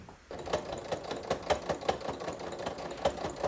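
A sewing machine runs steadily while stitching a quilted tote bag, its rapid mechanical hum broken by regular clicking pulses, close and moderately loud with no talking.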